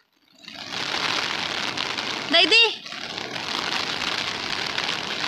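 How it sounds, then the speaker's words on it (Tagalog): Steady heavy rain hisses continuously, and a single voice briefly calls out over it partway through. "Lakas na ng ulan."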